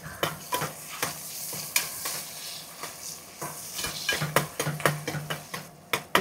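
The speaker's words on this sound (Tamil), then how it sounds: "சின்ன வெங்காயம் போட்டு நல்லெண்ணெய், கடலெண்ணெயில் நல்லா வெங்காயத்தை வதக்குறோம்" Shallots fry with cardamom, cloves and cinnamon in sesame and groundnut oil, giving a close, steady sizzle broken by repeated sharp scrapes and clinks of a spoon stirring the pan.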